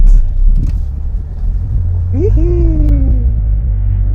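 Mitsubishi Lancer Cedia with an automatic transmission and a faulty ignition coil cranks and catches, a rising whine giving way to a steady idle over a low rumble, close and fairly loud.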